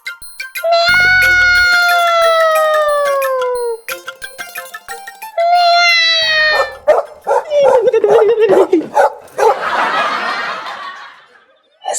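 Dogs barking at night in a comedy scene: loud, close, drawn-out barks and howls with falling pitch, followed by a burst of laughter and noise.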